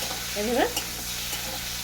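Chopped green chillies frying lightly in hot oil for a fish curry, a steady close sizzle with a brief stirring scrape midway, no talk.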